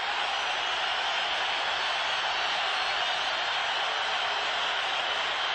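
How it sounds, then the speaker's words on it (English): Constant broad roar of a loud football stadium crowd at an NFL game between the Green Bay Packers and Tampa Bay Buccaneers, a steady dense wash of noise with no break or individual voices standing out. "Crowd is really loud."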